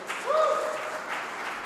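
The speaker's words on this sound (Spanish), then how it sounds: "Un aplauso, por favor, al pastor Dani Rendón" Applause from a church audience for a pastor, a brief wash of clapping that swells early and then holds steady at moderate loudness.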